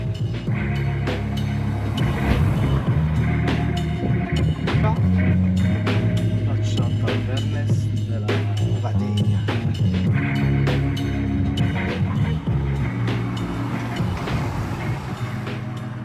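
A Renault Symbioz E-Tech 145 hybrid car pulling away on electric power, a continuous low drive hum rising and falling with cabin and road noise, heard from inside throughout.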